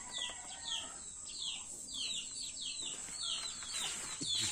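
Native chickens in a backyard give a string of soft, repeated clucks and chirpy calls at a distance, with light rustling underneath.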